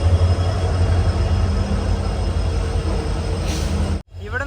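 A train rolls into Vasco da Gama railway station in Goa after a 28 km run, its heavy, steady rumble and wheel noise loud and close before cutting off abruptly near the end.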